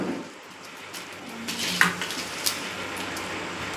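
Onions and dried red chillies are stirred in a metal pot over an outdoor fire, with a spoon scraping and clinking against the pot in a few distinct taps over a faint sizzle. No one talks.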